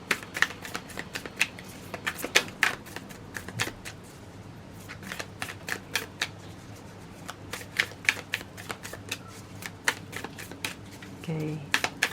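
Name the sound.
shuffling and drawing tarot and oracle cards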